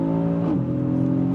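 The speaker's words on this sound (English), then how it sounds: "Listen to that upshift." A 2026 Aston Martin DBX S engine hums steadily with a brief dip in pitch as it shifts up, then continues droning loudly, close by, with no talking.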